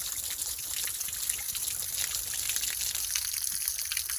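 About six gallons of water drain from an Atwood RV water heater tank in a steady, continuous splashing trickle that holds even and alone throughout.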